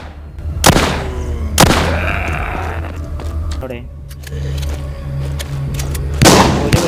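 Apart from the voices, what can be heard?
gunshots in the video game The Walking Zombie 2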